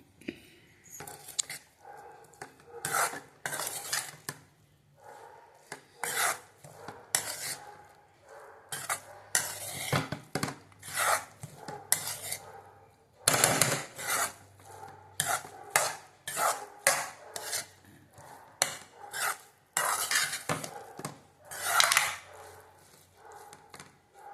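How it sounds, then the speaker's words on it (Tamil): A spoon stirs cooked rice with tomato and coriander leaves in a pot, making repeated close scraping and clinking strokes in an irregular rhythm throughout, with no talking. "மல்லித்தழை சிறிது போட்டு சாதத்தை போட்டு கிளறவும்"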